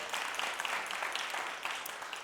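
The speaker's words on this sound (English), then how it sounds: "So let's clap for that too." Audience applause at a school district address, steady dense clapping from a crowd throughout, moderately distant and even in level.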